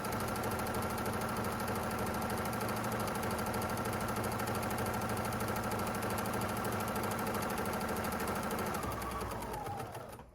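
A home sewing machine runs continuously while batch sewing drawstring bags, a loud, close, rapid mechanical whirring and stitching rhythm that holds steady for about nine seconds before slowing and stopping.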